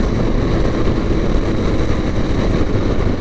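Loud, steady engine roar from a motorcycle being ridden hard through smooth clutchless downshifts, a dense continuous drone with no talk over it.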